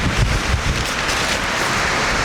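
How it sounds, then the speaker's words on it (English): Steady broadband wind buffeting the microphone at a winter campsite, a continuous rushing roar with low gusty thumps, loud and close, no voices. "Might be windy."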